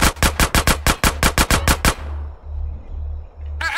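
Rapid automatic gunfire from Grand Theft Auto San Andreas, a loud burst of about a dozen close shots lasting two seconds, followed by a low rumbling tail.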